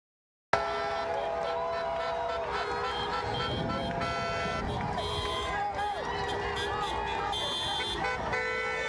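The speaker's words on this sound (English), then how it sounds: "as you can hear, we have people driving by, honking, giving thumbs up, showing their support" Car horns toot repeatedly from vehicles driving past a street protest in Nashville, Tennessee, rising over steady crowd and traffic noise along a busy roadside, with voices in the background.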